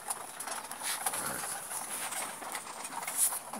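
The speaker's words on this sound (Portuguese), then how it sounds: "Filma os pombos, ó." Pigeons in a racing-pigeon loft coo softly amid a constant hiss of room noise and faint rustling, with the birds sounding fairly close but quiet and no voices present.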